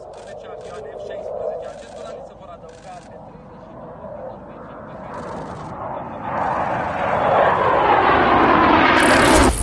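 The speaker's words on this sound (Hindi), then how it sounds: "रोमानिया में यूक्रेन के पायलट जो हैं F-16 फाइटर जेट उड़ाना सीख रहे हैं" An F-16 fighter jet flying during Ukrainian pilot training in Romania, its jet roar swelling steadily from moderate to loud as it approaches, with someone talking over the engine noise.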